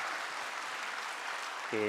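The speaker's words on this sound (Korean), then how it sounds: "우리 하나님께 영광의 박수 드립시다." Church congregation applauding during a Sunday Advent worship service, a steady dense wash of clapping that fills the clip, with a voice starting to speak at the very end.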